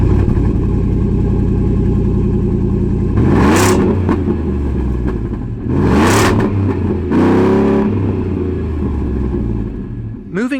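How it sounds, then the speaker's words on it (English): A deep V8 exhaust on a 2022 Ford F-150 with a Gibson performance exhaust and dual tips rumbles loudly at idle, then three sharp revs climb and fall back, close and powerful. "an amazing sounding performance exhaust by Gibson with dual black powder coated tips"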